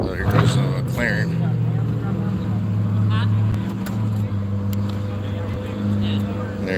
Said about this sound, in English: So here goes the McLaren